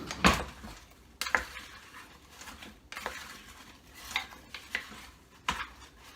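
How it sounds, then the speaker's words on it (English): Apples, water and cinnamon stirred in a crockpot, scattered soft spoon clinks and scrapes against the pot at uneven intervals, fairly quiet and close with no talking. "then you're just going to stir that up"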